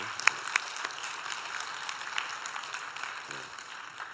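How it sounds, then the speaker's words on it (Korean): Church congregation applauding in thanks for its lay leaders, a quiet, sustained patter of many hands with a few sharper claps standing out early on. "그래서 우리 함께 우리 목자 목녀님들을 위해서 같이 감사의 박수"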